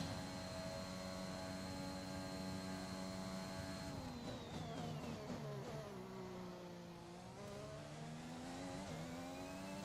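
Formula 1 car engine in the F1 2021 game held at full throttle, a high steady whining roar with rising and falling pitch as gears shift, continuous and fairly quiet.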